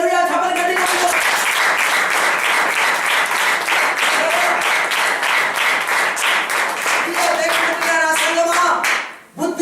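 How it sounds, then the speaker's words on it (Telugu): A church congregation at a Sunday service claps together in a steady, rhythmic beat that carries on for several seconds. A voice is heard briefly at the start and again near the end before the clapping cuts off. "చప్పట్లు కొట్టి"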